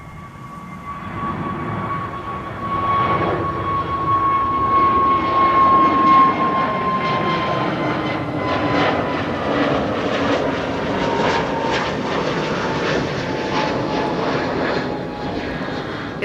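An Airbus A320neo jet departs runway 24 at Schiphol for Manchester, its engine roar loud and sustained with a steady tonal whine that swells after a couple of seconds and holds to the end.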